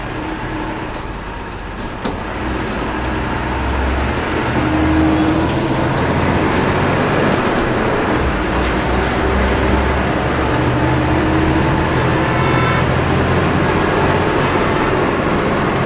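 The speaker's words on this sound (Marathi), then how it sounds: "आता बघू शकता चढाव कशी गाडी चढते. ही आहे BS6 ची पॉवर." An MSRTC ST bus with a BS6 engine labours up a steep uphill road, its engine droning loud and steady with a rising pitch, heard from inside the cabin over road rumble.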